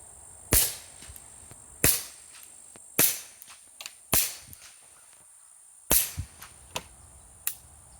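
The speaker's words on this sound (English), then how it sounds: "It's when I was shooting subsonics through the full baffle stack that I realized how good the Mustang can sound with the right ammo." Sharp cracks from a suppressed Ruger Mustang .22LR pistol firing subsonic ammo through a full baffle stack, six spaced shots with brief decaying tails and faint clinks between, close and alone with no talk.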